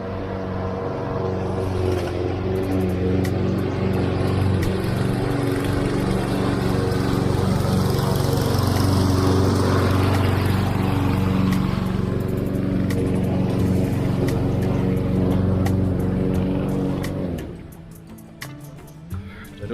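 A grass-cutting machine runs steadily nearby for most of the stretch, a loud continuous engine drone with a rough, buzzing texture that cuts off near the end, leaving quiet.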